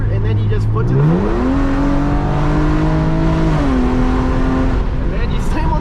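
A 370hp Hyundai Genesis Coupe 3.8 at full throttle from about 60 mph, its engine note climbing loud and close through a rising pitch, with a shift partway through, then holding as it keeps pulling.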